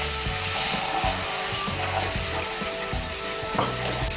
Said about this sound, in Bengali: আমি এর মধ্যে 1 কাপ নারকেলের দুধ দিচ্ছি।